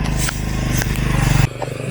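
A motorcycle engine running close by, a low rhythmic throbbing idle with some scraping noises over it, cutting down abruptly partway through.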